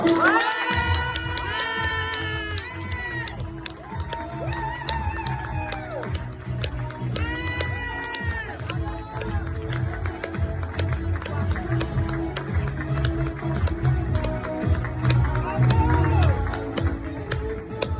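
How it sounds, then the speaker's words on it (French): Audience applause and cheering for the coaches at a French equestrian club championship, loud continuous clapping and shouts over music, with an announcer's voice at times. "je vais vous demander, cher public, un tonnerre d'applaudissements pour les coachs"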